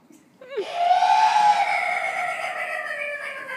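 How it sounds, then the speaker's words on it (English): A puppet monster's long, shrill scream rises abruptly and holds, then slowly trails off with a rough, strained edge, loud and close. "You probably want to hear what his scream sounds like, right?"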